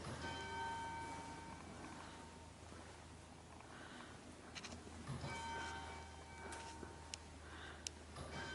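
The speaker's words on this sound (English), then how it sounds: "Isn't that lovely, the actual bell ring?" A church bell tolls at a distance inside a church, its ringing tones steady and faint behind a continuous low background hum, with no one speaking.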